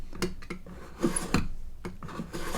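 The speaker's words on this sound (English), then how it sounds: "And I'm just drawing a bunch of shallow cuts across." A blade drawing slow, shallow cuts across a model assault flyer, giving a series of short scraping and rasping strokes in an irregular rhythm, close and moderately loud with no talk.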